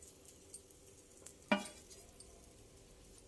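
Bitter gourd pieces stirred in a frying pan over fried seeds, a quiet sizzle with soft scraping and a sharp clink of utensil against the pan midway, plus a few lighter taps.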